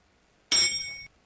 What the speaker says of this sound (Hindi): अब घंटी बजाओ एक बार।